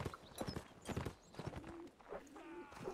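Horses clatter in Mount and Blade Warband Napoleonic Wars, rapid hoof clip-clops in uneven bursts with a neigh, fairly near and moderately loud, a brief voice mixed in.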